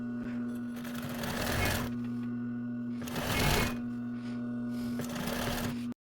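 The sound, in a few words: sewing machine stitching bias tape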